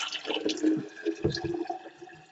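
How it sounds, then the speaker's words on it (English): Water is poured into a GForce electric kettle, about one liter going in, making a close, gurgling splash and trickle that runs continuously for a couple of seconds. "I will place the water into the device"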